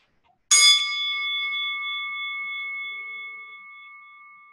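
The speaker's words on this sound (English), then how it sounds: "Let's ring our bell again." A single meditation bell is struck once, ringing out clearly and close, its bright tone sustaining and slowly fading over several seconds in a quiet room.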